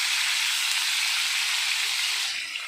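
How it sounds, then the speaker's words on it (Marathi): Soaked Bombay duck fish fry in oil on a pan, giving a loud, constant, close hissing sizzle that fades slightly at the end. "हे बघा आधी तेलामध्ये परतून घेऊया"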